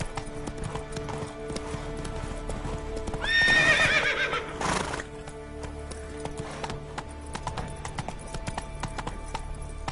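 A horse in The Witcher 3 video game gallops with steady clip-clop hoofbeats, then gives a loud, clear whinny partway through before the hooves carry on.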